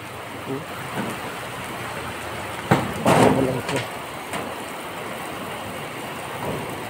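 A roof water sprinkler sprays steadily onto a metal roof, making a constant rain-like hiss and patter, with a few louder splashes and knocks partway through.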